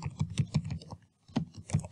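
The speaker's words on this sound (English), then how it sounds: "I'll type in administrator" Keys clatter on a computer keyboard as a username is entered at a Windows Server 2008 login prompt, two quick bursts of close, crisp taps separated by a short pause.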